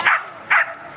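A frisbee show dog at an outdoor hot dog festival barks twice, two short, sharp yips about half a second apart, close and loud over a soft crowd background.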